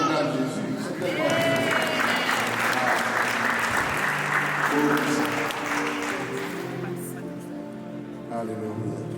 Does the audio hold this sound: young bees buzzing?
no